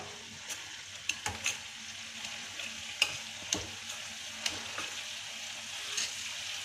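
Oil bubbles and sizzles steadily in a pan, with scattered soft pops and ticks rising above the hiss.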